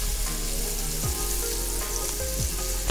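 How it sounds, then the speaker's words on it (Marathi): Batter-dipped pomfret fish fries in oil on a wood-fired stove, giving a loud, continuous, close-up sizzle with a few short bursts as the pieces settle. "ते पिठात पिठात असं बुडवायचं बरोबर आपण आणि बुडवलं हा आणि यात सोडायचं तेलात"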